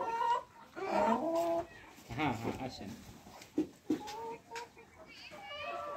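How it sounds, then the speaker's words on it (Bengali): Fancy chickens cluck and call at a farm keeping large show breeds, with short bursts of clucking and sharp calls scattered between a man's and others' voices talking nearby. "বিশাল বিশাল মুরগি, শৌখিন মুরগি"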